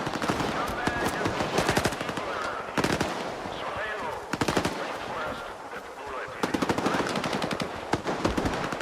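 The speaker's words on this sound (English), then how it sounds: "they're shooting at the IPSF guys" Rapid bursts of automatic gunfire from a firefight in the video game S.T.A.L.K.E.R. 2: Heart of Chornobyl, loud dense volleys repeating in clusters across the clip with brief gaps between.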